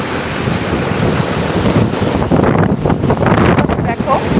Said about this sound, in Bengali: ফোন ধরে থাকা যাচ্ছে না এত হাওয়া দিচ্ছে প্রবল বেগের জল যাচ্ছে